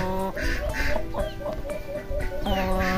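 Two fairly large farmyard turkeys clucking and gobbling nearby in short repeated bursts, with a few higher calls mixed in over a rural background.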